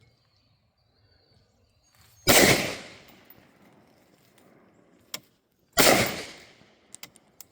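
Two sharp AR rifle shots at a target on an outdoor range, spaced about three seconds apart, each a loud crack with a decaying tail, followed by a few faint clicks.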